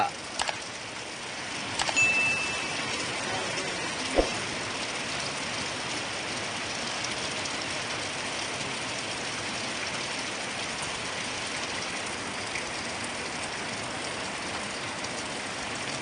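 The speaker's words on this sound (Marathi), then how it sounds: "पावसाची सुरुवात देखील छान झाली आहे बघा" First monsoon rain in the Konkan countryside, a steady, dense hiss of falling drops on surfaces that holds evenly throughout, with a couple of brief knocks early on and no talk.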